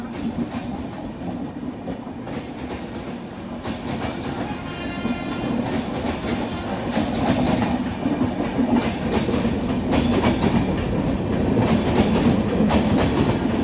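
The Taj Express, a push-pull train hauled by WAP7 locomotives at both ends, rolls along with steady clickety-clack wheel rhythm and a continuous rumble that grows louder as it gathers speed, with a faint high whine near the end.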